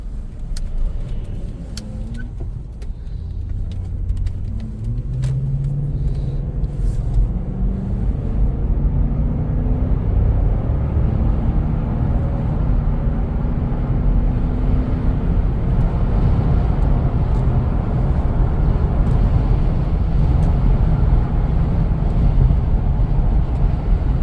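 Steady wind roar and road rumble fill the cabin of a Toyota Land Cruiser 200 on the move, a continuous, even wash of noise with no voices.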